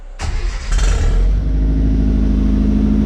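Mazda truck engine starts and settles into a deep, loud idle through a Flowmaster 40 series exhaust, a quick crank and revving burst followed by a steady rumbling drone, heard up close.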